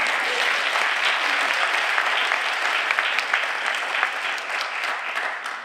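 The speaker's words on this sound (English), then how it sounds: "I think she deserves a round of applause." Steady audience applause at a student excellence awards celebration honoring an instructor, dense continuous clapping from a crowd filling the whole span, moderately loud and even with no talk over it.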